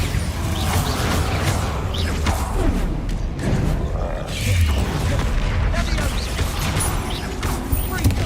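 Bombarda explosion spell in Hogwarts Legacy, heard as a dense, continuous barrage of booming blasts and rumbling impacts filling the whole stretch, with heavy low-end thuds and no clear pauses.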